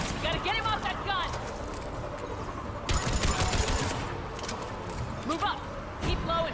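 Mass Effect 3 combat: a trooper on a mounted gun fires rapid bursts that crackle and repeat in several volleys amid battlefield clatter, with shuttles overhead.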